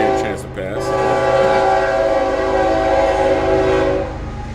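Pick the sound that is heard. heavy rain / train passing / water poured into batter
train passing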